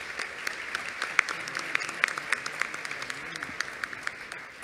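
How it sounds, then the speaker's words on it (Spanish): Applause rises from an audience at a political gathering to greet a guest: a dense, continuous patter of many hands with sharp individual claps standing out, steady throughout the short stretch. "Fuerte el aplauso para él,"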